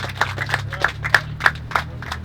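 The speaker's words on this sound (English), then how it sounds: "So, give a round of applause to everyone here" A small group claps at a housing-advocacy talk, sparse distinct hand claps in an uneven rhythm, about eight or nine sharp hits, fairly faint, over a low background hum.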